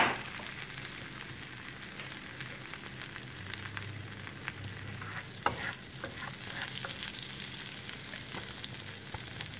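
Butter melts into olive oil in a pan, giving a soft, even sizzle with a few faint utensil taps, quiet and continuous throughout.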